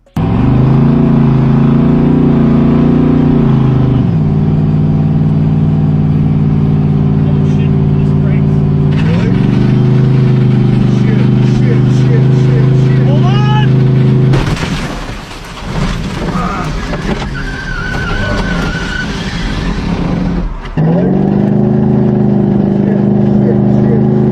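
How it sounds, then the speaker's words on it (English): A car engine drones loudly with a sticking accelerator, its low steady roar shifting up and down in pitch as it surges, broken by a louder, noisier burst midway before settling back to the steady hum. "It surges a little bit because that accelerator's sticking."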